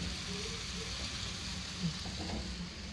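Corned beef frying in a pan gives a steady, dense sizzle that runs the whole time, with a few soft stirring scrapes and faint background voices.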